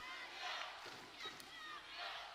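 Serbian volleyball fans cheer and roar in an arena during a CEV EuroVolley 2023 match against the Netherlands, a steady crowd din that swells twice, with a commentator's voice faintly underneath.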